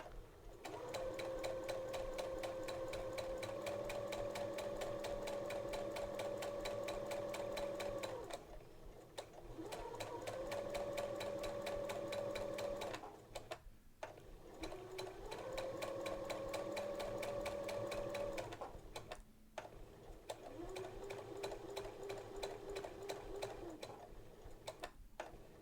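A sewing machine hums in long continuous runs while hemming fabric with a narrow hemmer foot, its whirring pitch rising and settling in each stretch and broken by three short pauses; no voices.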